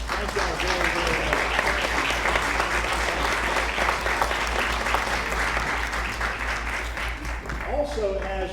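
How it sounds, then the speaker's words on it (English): Town hall audience at a Meet the Candidates event in Dillon, SC applauds steadily for the full stretch, a dense even clatter of many hands with a voice briefly talking over it near the end. "let's give you a round of applause."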